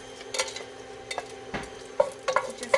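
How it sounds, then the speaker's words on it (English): Cardamom, cloves, cinnamon and star anise sit in hot oil in a pan, giving a soft steady sizzle broken by a few sharp clinks and scrapes of stirring. "Just let that roast in the oil a little bit to infuse the oil with the nice flavors"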